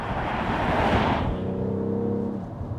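A BMW X3 M40i engine runs close by, first a loud broadband rush as it accelerates, then easing into a steadier, lower humming drone with a clear tonal buzz, with no talk over it.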